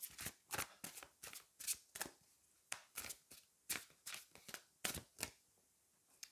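Tarot cards being shuffled and drawn by hand, close up, with a rhythmic series of sharp riffling and slapping bursts, a dozen or more spaced through the stretch, and no talking.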